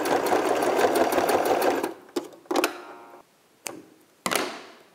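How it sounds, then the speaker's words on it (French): Sewing machine running steadily while stitching a fabric mask, a continuous close whirring for about two seconds, then stopping, followed by a few short bursts of the machine restarting briefly. "vous venez vous replacer sous la machine et refaire notre piquage de 1 cm"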